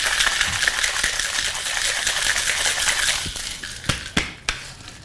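A cocktail with rhubarb bitters is shaken hard in a shaker, making a dense continuous rattle that ends in three sharp knocks, close and loud.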